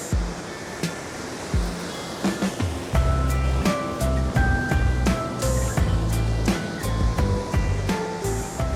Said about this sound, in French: le saut du Capellan, qui est notre magnifique cascade du village. C'est la plus belle cascade sur la Nartubie